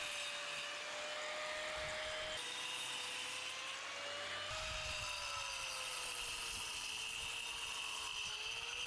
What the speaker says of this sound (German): Als nächstes schneide ich mir Schamottplatten zu.